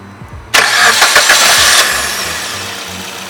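A 2014 minibus engine cranks briefly and catches, then settles into a loud, close, steady idle that slowly eases off.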